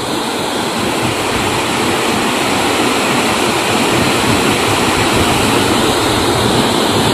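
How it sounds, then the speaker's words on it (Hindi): Kanger Dhara, a small waterfall in the forested Kanger Valley National Park, roars as a loud, constant broadband rush of falling water up close, with no voices. "हालांकि बहुत छोटा वाटरफॉल है पर सुंदर काफ़ी है।"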